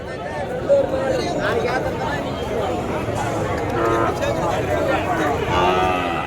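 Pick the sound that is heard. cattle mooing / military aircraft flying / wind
cattle mooing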